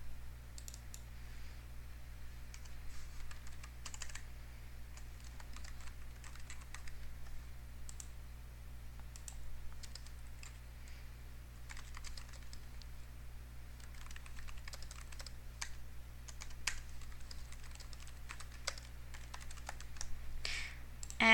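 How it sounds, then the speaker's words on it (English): Soft keyboard typing on a computer, irregular bursts of light key clicks spread across the whole stretch over a steady low electrical hum, fairly faint and close, with no voices. "you type in the information you want"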